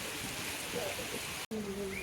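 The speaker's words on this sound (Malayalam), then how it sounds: "മഴ കൂടിക്കൊണ്ടിരിക്കുന്നു നല്ല മഴയാണ്" Steady rain hissing across the whole clip, with a brief dropout partway through and faint tonal sounds underneath.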